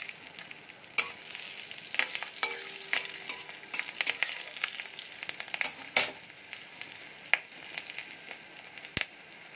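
Green chillies fry in hot oil in a pan while being stirred, a steady close sizzle broken by frequent sharp scrapes and clicks of the spatula against the pan.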